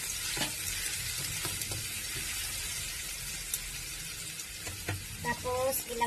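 Ginger, garlic and onion fry in a pan, a steady soft sizzle with occasional stirring scrapes, and a voice speaks briefly near the end.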